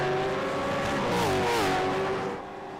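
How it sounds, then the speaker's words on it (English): V8 Supercar Gen3 race car engines in a racing video game, a loud sustained roar with pitch climbing and wavering as the cars accelerate, then easing off at the end. "We get to hear these engines roar."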